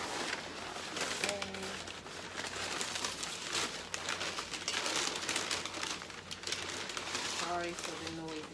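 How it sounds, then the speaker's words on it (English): Paper crinkles and rustles continuously close by while unwrapping shopping-haul items, with a few brief bird-like chirps appearing in the noisy background. "sorry for the noisy paper"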